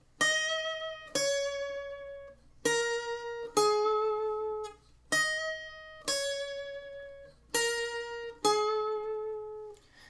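Guitar playing the second half of the chorus of a song: about eight clean, ringing chords struck in an even pattern, each decaying before the next, close and alone with no voices.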